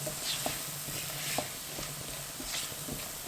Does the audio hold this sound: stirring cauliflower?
yes